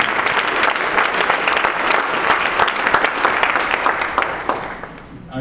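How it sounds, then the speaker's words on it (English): A church audience gives a steady round of applause at a congresswoman's town hall, dense clapping sustained evenly throughout before tapering slightly at the end. "Could you give yourself a round of applause, please?"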